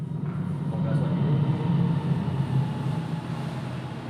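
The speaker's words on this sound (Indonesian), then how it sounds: "ada kereta ya, jadi agak berisik ya" Steady low rumble of a passing train heard nearby, a continuous droning roar throughout at moderate loudness.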